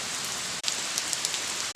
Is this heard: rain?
yes